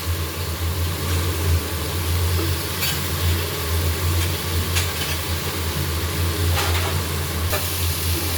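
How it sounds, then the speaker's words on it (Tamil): Vegetables sauté in a pan with a dense, continuous sizzle over a low steady rumble, with occasional brief stirring scrapes. "நல்லா வதக்கின்னு இருக்குது"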